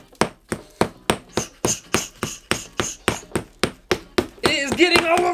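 Hammer striking a hard object, likely a keyboard or mouse, in a room: about fourteen sharp, evenly spaced blows in quick succession, loud and close, followed by a clattering crunch.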